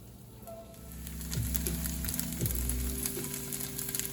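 Tofu cubes fry in a pan with a quiet, crackling sizzle, a few louder pops over a soft, steady hiss and a faint hum.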